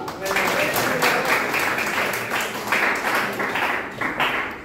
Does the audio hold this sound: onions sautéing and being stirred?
no